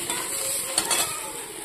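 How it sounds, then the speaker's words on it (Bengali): Five leafy greens are stir-fried in a pan with nigella seeds. A short, close burst of sizzling comes with a quick scrape of the spoon partway through. "তো পাঁচ শাকটা একটু ভেজে নেব, কালো জিরা ফোড়ন দিয়ে দিয়েছি"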